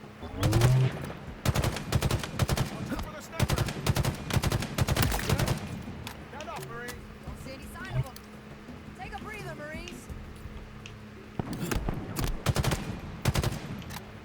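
A Marine fires in Halo Infinite, with rapid bursts of gunfire crackling in volleys at the start and again near the end, while a voice talks over the lulls in between.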